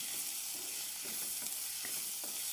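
Ingredients roast in a frying pan for a Goan drumstick recipe, giving a steady close sizzle with soft periodic scraping and stirring strokes, no voices.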